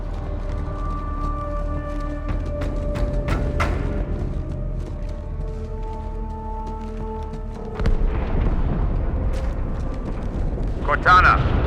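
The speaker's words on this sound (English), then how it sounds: "That explosion came from inside the Athens, same as the Malta." An explosion aboard a ship in the video game Halo 2: a deep, rumbling blast swells up about two-thirds of the way through, over sustained musical tones that run the whole time.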